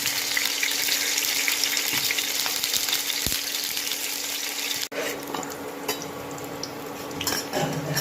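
Chopped onion goes into hot oil in a home kitchen, giving a close, continuous hissing sizzle, with a sharp clack partway through and a stir or scrape after, and no talk.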